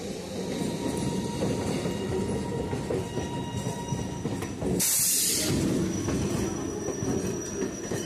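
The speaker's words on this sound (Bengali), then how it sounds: "সামনে থেকে ঢুকছে শিয়ালদাগামী আপ লোকাল ট্রেন নাম্বার 32230" A Sealdah-bound up local train, number 32230, rumbles into a station, its wheels clattering and squealing loudly and close by, with a sharp hissing burst midway through.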